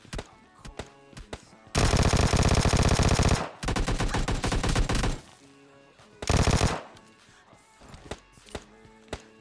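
A Vector submachine gun fires in PUBG Lite, loud rapid automatic bursts of close gunfire separated by quieter stretches with footsteps and game clatter.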